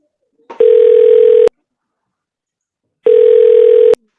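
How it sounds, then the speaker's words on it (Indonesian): Two long steady ringback tones with a silent gap between them, heard while calling a doctor about a prescription; each tone lasts about a second, loud and clean, with no voices. "setelah menelpon yang ketiga kali, dokter belum juga mengangkat teleponnya"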